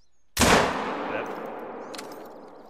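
A single loud rifle shot fired at a bear in the hunting video game Hunter: Call of the Wild, a sharp blast followed by a long, fading echo rolling out across open terrain.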